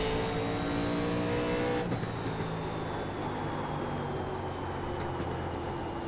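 A 1987 NASCAR stock car engine in the iRacing game at Bristol drones at a steady high pitch, loud and constant. A brief shift in tone comes about two seconds in, then the engine holds at a sustained roar.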